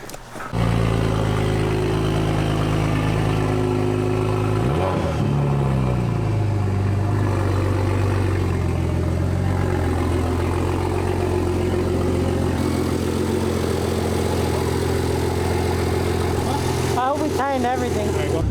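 Turbocharged BMW engine running steadily on a drive around the block, a loud, close, continuous mid-pitched drone with a rev swell near the start and another toward the end, with some talk in the car.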